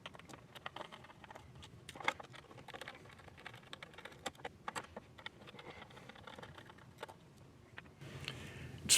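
Small screws being worked out of the body of a Lionel O gauge Amtrak Genesis locomotive, a steady run of light ticks, clicks and scrapes with short pauses between them, close by and fairly quiet, with a louder rustle at the end.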